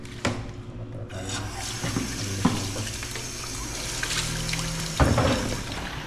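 Tap water runs into a kitchen sink while something soaked in salt water is washed, a continuous splashing flow with occasional clunks and knocks of handling.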